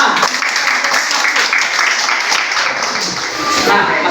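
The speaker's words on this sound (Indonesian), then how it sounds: "Tepuk tangan." A classroom group gives dense, continuous applause lasting several seconds, fairly loud and close, with voices mixed into the clapping.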